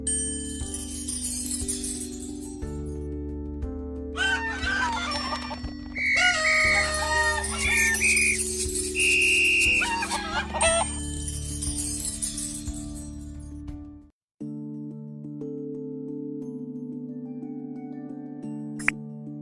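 A cartoon rooster crows loudly amid busy clucking from several chickens, with bright musical tones and a soft jingle running alongside.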